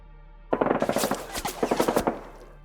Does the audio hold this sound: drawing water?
no